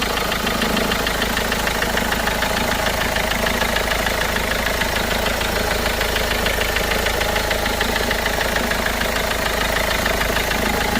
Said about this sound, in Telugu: సో ఇంజిన్ సౌండ్ అయితే విధంగా ఉందండి